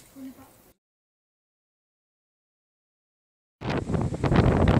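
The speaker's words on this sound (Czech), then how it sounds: "Je šílený vítr" Strong wind at a seaside campsite buffets the microphone: a short burst at the start, a stretch of silence, then loud, rough, continuous gusting roar to the end.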